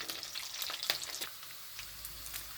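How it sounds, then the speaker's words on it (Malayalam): Garlic fries in hot oil in a pan for mulakoshyam, a Kerala dish, giving a soft, busy sizzle with scattered sharp crackles and pops, close and fairly quiet, with no talking. "ആ വെളുത്തുള്ളി ഇടാം. അത് ഏകദേശം വെളുത്തുള്ളി നല്ല ഗോൾഡൻ ബ്രൗൺ ആകണം."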